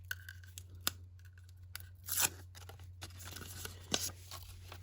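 Opening a subscription box package: close, quiet snips, rustles and tearing of packaging, irregular and intermittent, with one louder crinkling burst midway and no speech.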